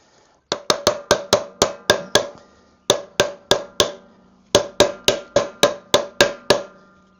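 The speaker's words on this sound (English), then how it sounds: "we just grab our old bearing that we took out and use that to seat it in without whacking yourself in the thumb" A motorcycle wheel bearing is driven into its hub with a hammer, using the old bearing as a drift: three bursts of sharp, ringing metallic blows, five to eight quick strikes each, with short pauses between.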